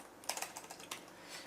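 Someone types quickly on a flat, low-profile computer keyboard in an office setting, a close run of soft, uneven key clicks with a few sharper taps.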